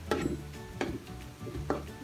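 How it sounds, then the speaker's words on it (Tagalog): A pan of chili and green onion leaves, cooked for tofu sisig with chicken liver and gizzard, is stirred over a gentle sizzle, with three distinct scraping strokes close by and no talking. "Paglagay natin yan, haluin natin ito kaagad."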